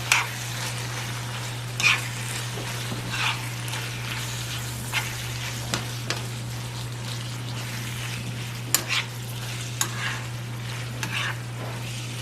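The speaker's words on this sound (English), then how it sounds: "Okay, so now I'm going to come and mix everything." A spoon stirs alcapurria filling with sofrito in a hot pan, giving a steady sizzle and frying crackle with repeated scraping strokes against the pan, heard close and alone.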